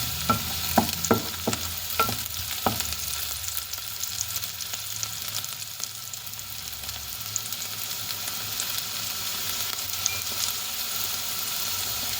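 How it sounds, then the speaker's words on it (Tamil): Onions frying in oil in a pan for a bread kottu dish, with a continuous close sizzle and a few quick stirring clacks near the start, no voices. "வெங்காயம் கொஞ்சம் தாளித்து பொன்னிறமாக வந்த பிறகு மிச்ச பொருட்களை சேர்ப்போம்"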